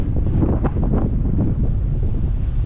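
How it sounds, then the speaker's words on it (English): Strong wind beside the Mississippi River buffets the microphone with constant low roaring rumble and gusty fluctuations throughout, with no voices. "Super windy today."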